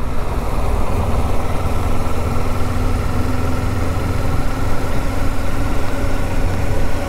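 A Kawasaki Ninja 400 motorcycle engine idles steadily and close by, a continuous low rumble with an even, unbroken texture and no voices over it.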